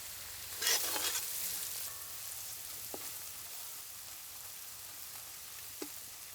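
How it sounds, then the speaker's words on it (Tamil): Vegetables sautéing in a pan with garam masala and chili powder for a roti noodle dish: a steady, soft sizzle throughout, with a brief louder stir near the start and a couple of faint clinks, no talking. "வெஜிடபிள்ஸ் பார்த்தீங்கன்னா வதங்கிட்டே இருக்குங்க"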